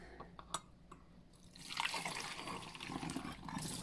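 Liquid soap mixture of coconut black soap with rosemary and lavender drips and trickles through a filter, a soft, fairly faint patter of droplets that thickens into a steadier wet trickle partway through.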